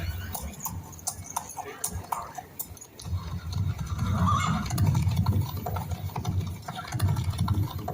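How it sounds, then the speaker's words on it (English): Hooves of many horses clip-clop in a dramatised 1864 scene in Chambersburg, a steady rumbling trample with scattered sharp knocks and clinks, building in the middle and continuing to the end. "I hear horses. Many horses."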